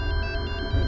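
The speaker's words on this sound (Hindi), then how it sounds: "लगता है उनका फोन होगा।" A phone ringtone chimes loudly and close, a bright repeating electronic tone with a steady low hum underneath.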